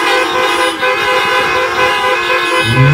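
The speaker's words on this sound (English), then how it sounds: "Go ahead and honk your horn one more time." Car horns honk together at a drive-in church service, a loud steady blare of several overlapping tones with engine rumble beneath, swelling slightly toward the end.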